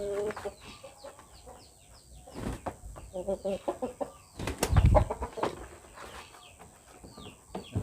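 A fighting rooster clucks in short bursts during wing and jumping exercise, close by, with a flurry of wing flapping midway and faint human voices now and then.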